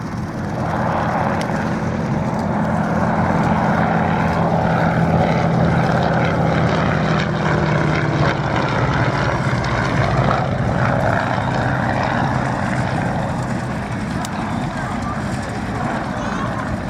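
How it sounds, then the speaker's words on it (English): An Avro Anson, a slow twin-engine propeller aircraft, flies past at the RAF Cosford airshow, its steady engine drone sustained and fairly loud throughout, with a commentator's voice talking over it. "you see just what a slow-flying aircraft this Mark"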